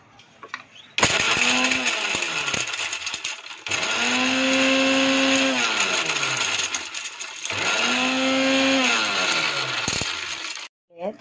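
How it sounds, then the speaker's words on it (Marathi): A mixer grinder finely grinds almonds in loud whirring bursts. Three long runs come one after another, each with a pitch that rises and then sags, and they are split by brief pauses. "बदाम जरासे वाटणार आहे बारीक करून"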